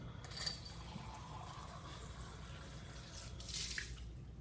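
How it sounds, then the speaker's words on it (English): Water running and dripping as a glass beaker is rinsed out at a lab sink during a titration, a soft steady trickle with brief louder splashes, no voices. "So I'm going to clean my beaker out."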